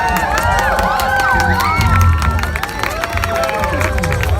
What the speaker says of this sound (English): Come on guys, let's cheer them on.